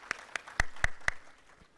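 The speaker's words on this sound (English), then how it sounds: "Please give them a big round of applause." Scattered, sparse hand claps from a conference session audience, a handful of sharp separate claps fading out in under two seconds.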